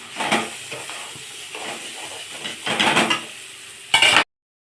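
Cluster beans fry in a pan over low heat, a close, loud sizzle broken by repeated stirring bursts and spatula scrapes, with a sharp final flare before it cuts off.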